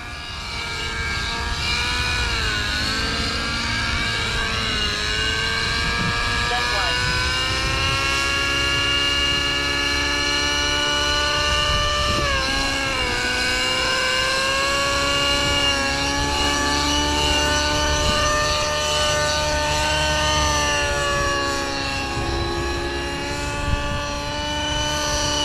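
An Align Trex 600 nitro RC helicopter in flight gives off a loud, continuous engine and rotor whine that rises and falls in pitch as it maneuvers, with no voices over it.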